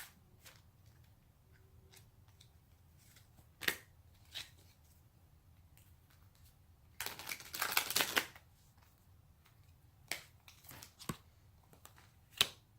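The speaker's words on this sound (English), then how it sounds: "I'm gonna pull one more card." Tarot cards are handled one at a time, then shuffled in a dense riffling burst of about a second near the middle, followed by a few sharp snaps as a card is pulled, close and clear in a quiet room.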